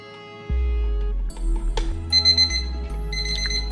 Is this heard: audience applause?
no